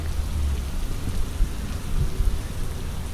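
Steady rain falling outdoors near a river, a loud, continuous wash of drops with heavy low rumbling and no voices.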